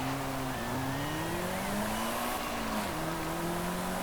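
A 2000 Lotus 340R in Forza Horizon 5 accelerates down a drag strip, its engine revving up steadily through the gears with brief drops at each shift, loud and continuous throughout.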